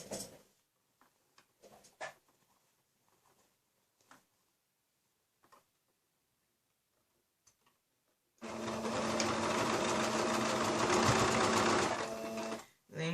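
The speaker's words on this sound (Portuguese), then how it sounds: "Vou dar uma alfinetada e vou costurar com o pé de máquina." A sewing machine running with the presser foot, stitching a patchwork seam on a zippered pouch, a steady close whirring hum lasting a few seconds after a stretch of quiet handling taps and rustles.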